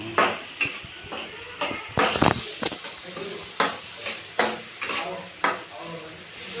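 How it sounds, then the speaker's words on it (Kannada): Onion frying in a pan for a traditional home recipe gives a steady sizzle, broken by regular scraping stirs and clinks of a spoon against the pan. It is close and fairly loud, with no talking. "ಇದು ಈರುಳ್ಳಿ ಇದು ಎಷ್ಟು ನಿಮಿಷ ಫ್ರೈ ಮಾಡಬೇಕು?"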